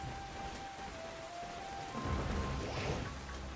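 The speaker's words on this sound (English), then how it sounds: "Ooh, there's rain." Steady rain in Pokémon Scarlet falls as a soft, constant hiss of drops. It thickens slightly partway through, with a faint tone lingering underneath.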